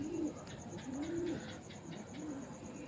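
Pigeons coo in soft, repeated rolling phrases, three close calls spread evenly over a few seconds against a steady outdoor background hum.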